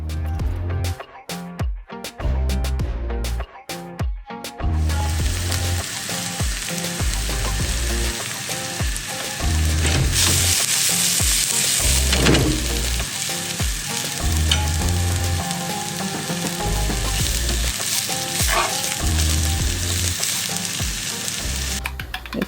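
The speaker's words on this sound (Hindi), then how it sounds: "आप ग्रिल में वो पैन पे इसको रख के 2 मिनट के लिए टॉस कर सकते हैं" Doner kebab pieces sizzle loudly and steadily in a lightly oiled pan on a grill, with repeated stirring and tossing scrapes up close, and no talking.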